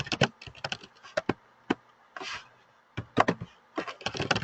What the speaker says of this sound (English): So in the description, I can type Mary is by the lockers.